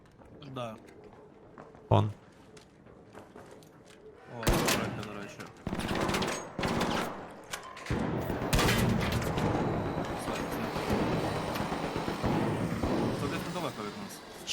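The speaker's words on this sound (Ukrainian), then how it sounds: "Це ви стріляєте по ботах?" Bursts of rapid gunfire in the game Arc Raiders, shots at bots, single shots and longer volleys crackling loudly over a noisy backdrop, with people talking throughout.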